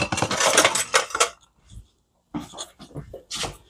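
A metal spoon picked up in a home kitchen, loud clattering of cutlery and dishes in bursts, a short pause, then more clinks and rattles nearby.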